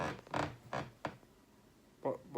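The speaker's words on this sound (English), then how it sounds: "This is a squeaky chair." A squeaky chair creaks as someone shifts in it. A few short, sharp creaks come close together, then pause before two more squeaks, all up close.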